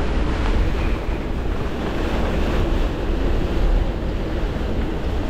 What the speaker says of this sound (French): Là on voit que ça souffle roule très fort.